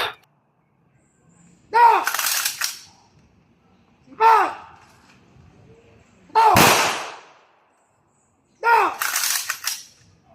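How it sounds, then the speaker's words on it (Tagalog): Rifles fire a 21-gun salute at a military ceremony. Four loud, sharp volleys come several seconds apart, each cracking and then echoing away into quiet. "nakapugay kamay na po yung mga katropa natin dahil igagawa na po yung 21 Gun Salute"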